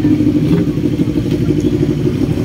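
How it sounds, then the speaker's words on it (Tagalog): Big 1000cc motorcycles idle and rumble nearby outdoors, a continuous low, throbbing engine sound with light clatter and no clear talk. "Ganda ng mga motor nila, oh. Mga 1000cc."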